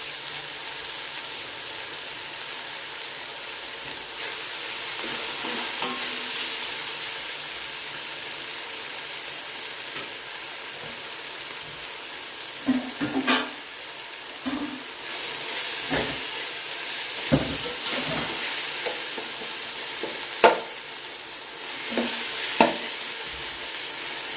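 Steady sizzling and hissing of tomatoes frying in a pan, with occasional stirring clinks and pops over the continuous crackle.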